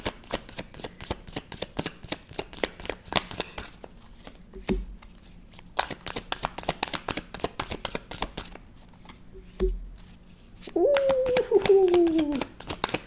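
Tarot cards are shuffled in rapid, crisp riffles and flicks close to the microphone, with brief pauses between bursts, and a short vocal sound near the end.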